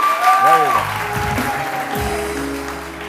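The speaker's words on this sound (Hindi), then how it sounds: "तालियां तो बजा दीजिए" Studio audience on a television morning show applauding, a dense burst of clapping that runs through the clip alongside a voice speaking over it.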